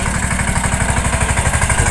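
A tractor engine chugs at a steady idle at a wedding gathering, its rhythmic low pulses close and continuous with no voices over it.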